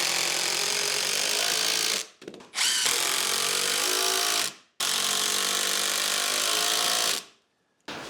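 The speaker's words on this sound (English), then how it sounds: "Now, two screws in there, and it is job done." A power drill drives two screws into wood on a workbench for an outdoor Christmas tree project, two loud sustained whirring runs with brief gaps, close and alone.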